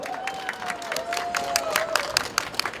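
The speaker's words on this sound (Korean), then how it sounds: "여러분 다시 한번 뜨거운 박수 부탁드립니다" A crowd at an outdoor campaign rally near Nambu Terminal station claps and cheers in a steady, moderately loud patter, with a high thin whistle-like tone drifting over the applause.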